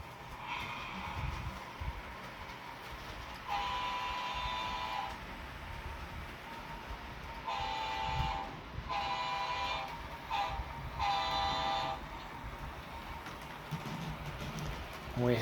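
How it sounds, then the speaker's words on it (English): A model train rumbles steadily along its track, with bursts of high whistle-like tones sounding several times over the running noise. "We have our first trains actually working"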